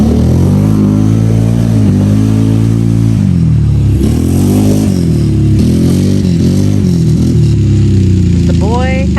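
A small motor vehicle engine revving as it comes back from a short ride at a rural Alabama homestead, loud, close and rising and falling through repeated throttle bursts, with people talking over it.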